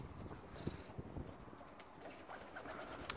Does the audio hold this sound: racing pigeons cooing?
yes